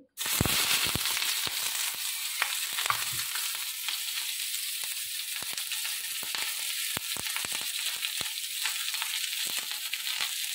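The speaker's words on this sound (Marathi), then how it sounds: "हे सगळं आपल्याला भाजून घ्यायचं आहे आणि याचा मसाला तयार करायचा आहे" Steady, dense sizzling of spices roasting in hot oil on a griddle pan, with scattered sharp crackles and pops throughout, close and continuous with no talking.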